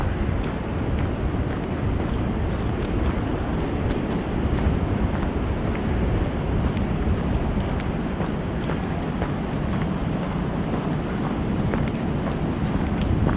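Strong wind buffets the microphone on a November hike through a woodland arboretum, a continuous loud roaring rumble with no let-up and no voices.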